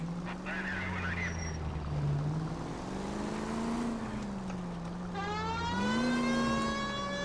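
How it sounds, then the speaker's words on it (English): A police car engine in the video game LA Noire drones with shifting pitch, and a rising electronic siren wail joins near the end, under steady road noise. "I don't really think in real life this warrants using the siren"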